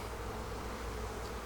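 Honey bees hum in a dense, steady drone at a hive in a bee barn during a fall inspection, a continuous close buzz with no breaks.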